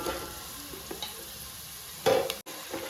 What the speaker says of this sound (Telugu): వేసి కలుపుతున్నామండి. ఇది మంచిగా గోల్డెన్ కలర్ వచ్చేంత వరకు వేయించాలి.